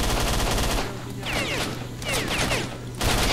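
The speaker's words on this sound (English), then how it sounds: "Shooting dudes is great" Gunfire in the shooter game S.T.A.L.K.E.R.: Shadow of Chernobyl comes in loud, rapid automatic bursts, with a brief lull in the middle before the shooting resumes in close, dense volleys.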